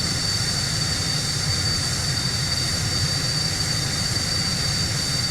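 A-6 Intruder jet engine starting in Microsoft Flight Simulator, a steady high whine and broad roaring hiss holding at an even, loud level throughout, with no talk.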